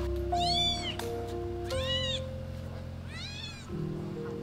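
Recorded kitten meows played aloud on a street to lure stray cats: three drawn-out mewing calls in a row, clear and fairly close, over a steady electrical hum.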